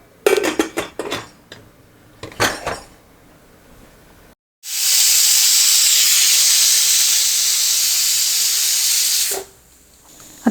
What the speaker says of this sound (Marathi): आता याला आपल्याला 2 शिट्ट्या काढून घ्यायच्या.